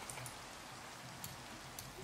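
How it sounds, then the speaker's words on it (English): Soft, steady rain in the video game Minecraft, a faint even patter with occasional light ticking drops, heard alone with no talk. "It's too rainy to be a desert."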